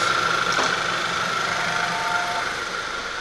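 Steady, fairly quiet idle from a VW Tiguan engine with a freshly cleaned intake, an even low hum and faint mechanical ticking with no talk over it.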